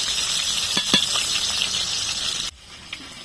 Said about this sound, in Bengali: আমি দুটো দুটো করে দিয়ে মাছ ভাজবো।